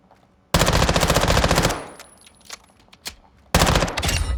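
Submachine gun fire in Call of Duty Modern Warfare II: a loud sustained automatic burst of about a second, a few scattered quieter shots, then another loud full-auto burst to the end.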